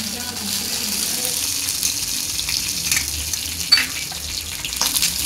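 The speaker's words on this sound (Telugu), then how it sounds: "ఆవాలు, జీలకర్ర, ఎండుమిరపకాయలు, కరివేపాకు వేసి తాలింపు పెట్టుకోవాలి." Mustard seeds, cumin, dried red chillies and curry leaves crackle in hot oil for a mango-tomato roti pachadi tempering, giving a steady close hiss with scattered small pops.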